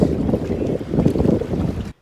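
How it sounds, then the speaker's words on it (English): Strong outdoor wind buffets the microphone in a loud, rumbling roar with gusty swells, then cuts off abruptly after about two seconds. "It's windy out here."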